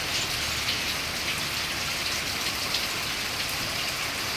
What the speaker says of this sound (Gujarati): મુસળધાર વરસાદની સાથે પાણી પણ